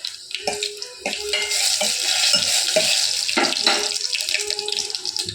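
Fenugreek seeds and three torn dried red chillies fry in hot oil, a steady bright sizzle with intermittent clinks and scrapes of a utensil against the pan, close and fairly loud, no talking.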